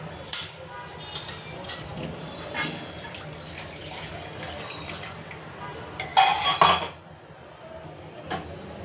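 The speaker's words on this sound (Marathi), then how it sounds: "आता हे जे मिश्रण आहे ना आपण कढीसाठी केलेलं आहे ते मी तरी याच्यामध्ये कढईमध्ये मी ओतून घेणार आहे" Besan-based Gujarati-style kadhi mixture is poured into a wok, giving a short, bright splashing burst among scattered clinks of metal utensils in a quiet kitchen.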